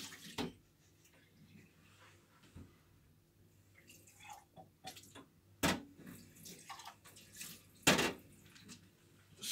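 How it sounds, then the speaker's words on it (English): Water poured from two glasses into a sink, giving soft trickles and a few sharp splashy drips and spatters at irregular intervals, close and fairly quiet, with no talking. "let me pour these in the sink"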